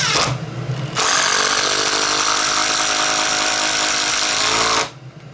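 DeWalt 12V Xtreme brushless impact driver set to high range, driving fasteners with a loud, continuous rapid hammering rattle for about four seconds, then cutting off.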